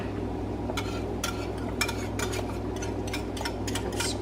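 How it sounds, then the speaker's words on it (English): A whisk scrapes and clinks around inside a pot of simmering corn chowder, a series of soft metallic ticks and swishes repeating over a steady low stovetop hum. "And just kind of take the whisk in the actual pot too. And just kind of whisk that around."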